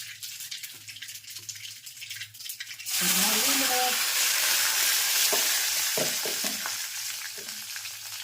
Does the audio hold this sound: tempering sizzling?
yes